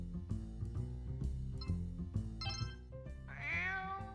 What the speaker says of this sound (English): There's a cat, a jail cat.